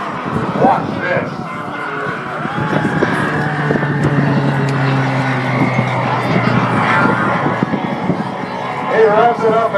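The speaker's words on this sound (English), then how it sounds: "He revs it up and he moves it on down the runway with speed." A Beechcraft trainer airplane revving its engine on takeoff down the runway at an airshow, a loud sustained droning engine tone with shifting pitch, under an announcer's voice.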